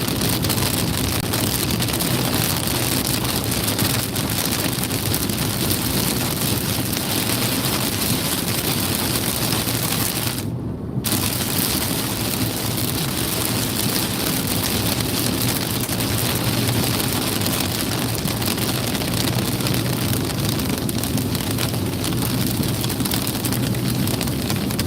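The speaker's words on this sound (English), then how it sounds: "Raining and the sun's shining." Steady broadband rain wash with road and wind noise while driving west on Florida's I-4 between Orlando and Lakeland, rain and sunshine at once; continuous and loud throughout, with one brief dropout midway.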